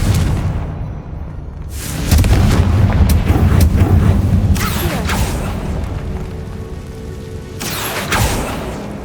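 A Confringo fire spell explodes in Hogwarts Legacy, loud booming blasts with rumbling low end, several sharp bursts and crackling debris, the strongest hits near the start, middle and end.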